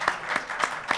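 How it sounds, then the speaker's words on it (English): Audience applause for a panel at a mobility conference in Miami: a brief, sparse burst of about four distinct claps, evenly spaced, at moderate volume. "Applause. For the panel."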